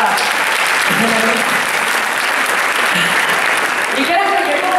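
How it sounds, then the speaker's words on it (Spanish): Dense, loud applause from an audience at a salsa show honoring Celia Cruz, continuous clapping filling the whole stretch with a few cheers, close and steady. "un aplauso por favor para..."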